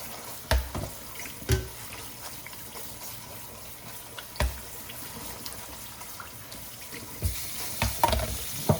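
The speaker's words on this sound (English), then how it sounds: "So you're gonna wash your beans, and then they just like to use the hose." Beans rinsed under running water from a hose, a steady low wash with occasional louder splashes and gushes, close by and with no voices.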